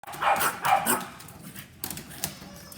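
A dog barks several times close by in short yipping bursts, then goes quieter with faint whimpers against a busy indoor background.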